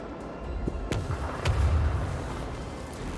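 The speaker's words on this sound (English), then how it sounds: "Unleash the power of our lance batteries" Starship lance batteries fire in the video game Warhammer 40k Rogue Trader, a few deep booming blasts with a low rumbling roll, loud and close.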